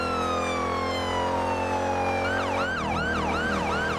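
Police car siren in the video game GTA 5: a steady, loud wail that slides down in pitch, then switches to a fast rising-and-falling yelp cycle, continuous with no speech.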